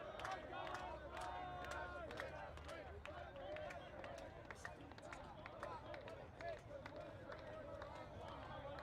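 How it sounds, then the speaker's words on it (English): Claremont Braineaters' sideline chanting one of their signature cheers at a college ultimate match against Air Force Afterburn, a faint, continuous crowd of voices with a commentator talking over it. "You can hear Claremont, a cheer forward team now, cheering one of their patent cheers"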